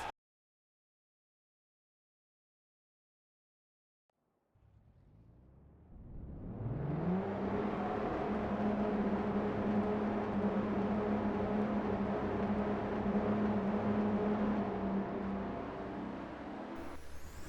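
Race car engines on the Homestead-Miami starting grid fire up in a racing video game after several seconds of silence, swelling into a loud, sustained droning rumble of many engines idling together.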